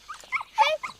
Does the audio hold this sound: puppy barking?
yes